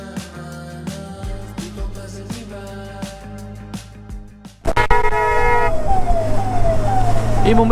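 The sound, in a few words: police vehicle siren on the road ahead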